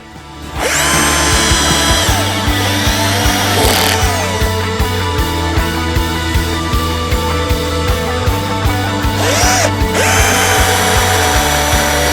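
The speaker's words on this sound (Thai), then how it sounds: "ผมยังเจาะไม่ลึกเท่าไหร่นะเดี๋ยวถ้าเจาะตรงแก่น" A power drill bores into three-year-old Huang Hua Li wood, running loud and close for about eleven seconds with a rhythmic pulsing grind and brief pitch dips as the bit bites.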